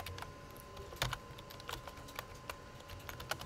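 Typing on a computer keyboard, a run of close, fairly quiet key clicks at an uneven rhythm with a few sharper taps, no voices.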